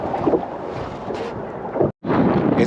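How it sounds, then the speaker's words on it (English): Wind buffets a boat on a slough near Sherman Island, a loud rumbling gust roar against the microphone that drops out briefly and then returns just as strong. "It's getting pretty windy here"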